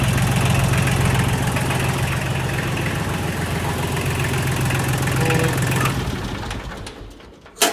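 A tractor engine running at idle with a steady low knocking rumble, loud and close, then cutting out near the end with a brief clunk.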